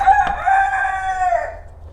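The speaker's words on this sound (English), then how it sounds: "The chickens are in here again." A rooster crows once, loud and close, in a garage where loose chickens wander, with a faint cluck near the start and a quiet room hum beneath.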